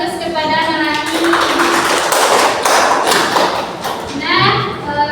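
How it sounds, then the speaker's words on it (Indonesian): A classroom breaks into applause for a student, a loud burst of clapping and thumping that swells and then fades, with a voice and an adult speaking over it. "kita beri aplaus kepada anak ini"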